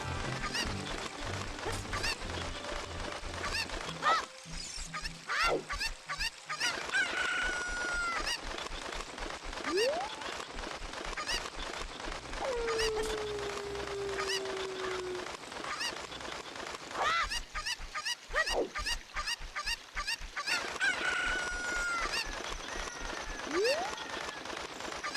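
Chickens from a Zelda game cluck and squawk repeatedly over a steady game soundscape, loud and close, with sharp bursts recurring throughout.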